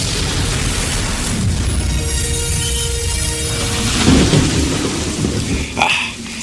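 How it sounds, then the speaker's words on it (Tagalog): Heavy rain pours down steadily in a dense, loud wash, with deep rolling thunder rumbling underneath and a sharper crack near the end, and no voices. "Malademonyo ang buhos ng ulan."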